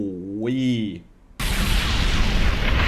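An explosive tag detonates in the Naruto Shippuden Ultimate Ninja Storm 4 fighting game, a sudden loud broadband blast that roars on steadily after a rising in-game vocal cry and a brief lull.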